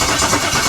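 An engine cranks steadily with fuel reaching only the front injector, a continuous churning drone that stays close and loud for a brief moment without catching.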